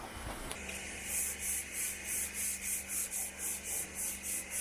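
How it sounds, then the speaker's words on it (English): Rhythmic back-and-forth sanding of copper coat paint on a sailboat, steady scraping strokes repeating about every half second, close by, with no talking. "We are sanding back the copper coat."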